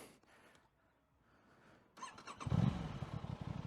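An Aprilia RS 660 motorcycle in first gear: a quiet lull, then the engine rises abruptly and holds at a louder, rough, pulsing note for the remaining second or two, close up, with no voices.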